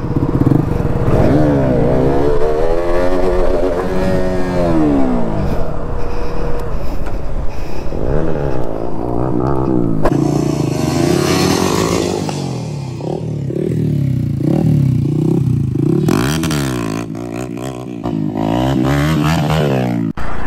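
KTM Duke motorcycle revving hard during a wheelie, loud and close with rising and falling engine pitch in repeated sweeps and some clatter, no speech.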